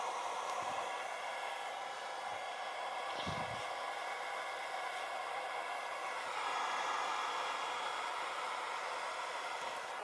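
Electric fan running steadily with an odd sound, a constant broadband whir and hiss with faint rattling and a slight surge partway through, no voices.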